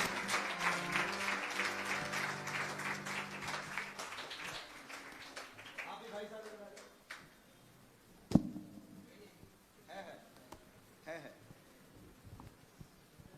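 A church congregation claps for the Holy Spirit, loud dense applause for about four seconds that thins into scattered claps, with voices continuing afterward.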